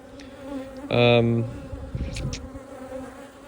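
Honeybees buzz inside a multi-queen micro nuc hive: a loud, close, tonal hum swells for about half a second, then fades into a softer, steady background drone.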